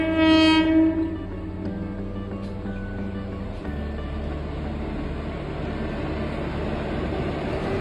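A train horn blasts loudly for about a second as a husband at the controls greets his wife, followed by the steady rumble and rolling clatter of the passing train.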